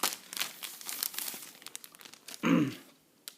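A plastic bag holding a silver coin crinkles and rustles up close as it is opened, with soft scattered crackles building to a louder crunchy burst near the end.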